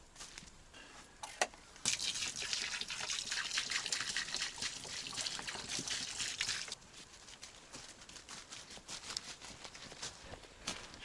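Water poured into a large stove in a cabin, a continuous splashing, trickling stream for several seconds, close by, tapering to scattered drips and faint knocks toward the end, with no talking.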